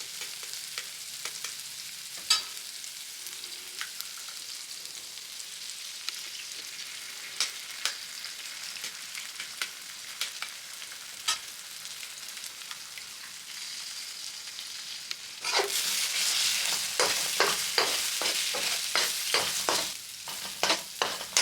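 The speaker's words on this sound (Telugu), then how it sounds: "ఎగ్స్ని క్రాక్ చేసి దానిలో యాడ్ చేసుకోవాలి" Cracked eggs fry in oil in a pan while being stirred for coriander fried rice, a close sizzle broken by scattered spatula taps that turns into a louder, denser sizzle with repeated scraping stirs near the end.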